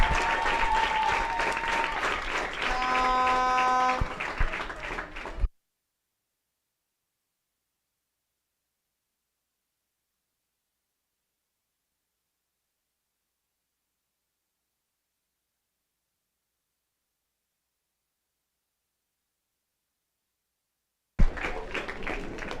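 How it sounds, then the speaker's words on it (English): Applause breaks out at a schools under-13 T10 tapeball cricket match in Guyana, a steady crowd clapping for about five seconds before cutting to silence, then briefly resuming at the end. "A round of applause for them."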